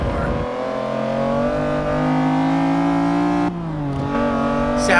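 The McLaren F1 engine in Forza Motorsport 6 revs and holds a high, buzzing pitch that climbs, drops briefly at a gear change and rises again, loud and close.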